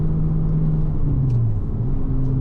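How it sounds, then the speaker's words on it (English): A 2007 Porsche Cayman S with a 6-speed manual gearbox accelerates, its engine giving a steady, loud, close drone whose pitch climbs partway through. "Very nice acceleration in this 2007 Cayman"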